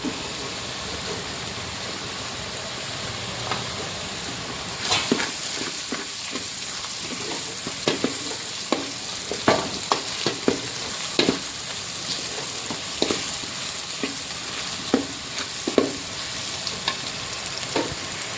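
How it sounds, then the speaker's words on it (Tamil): Tomato rice ingredients sautéing in a pan, with turmeric about to go in and tomato added afterward, giving a steady close sizzle throughout, broken by scattered clicks and scrapes of stirring. "இன்னும் கொஞ்சம் வதங்கட்டும், அதுக்கப்புறம் தக்காளி ஆட் பண்ணிக்கலாம்"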